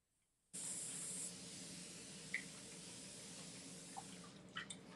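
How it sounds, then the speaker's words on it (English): A continuous-spray mister bottle sprays water while someone paints, a steady soft hiss that starts abruptly and runs on, with faint drips and small clicks. "I got the never ending spray bottle this time again"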